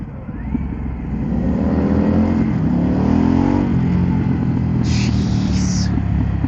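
A 2022 Harley-Davidson Pan America motorcycle engine revs and pulls up through its range, loud and close, with a rising drone and rushing wind throughout.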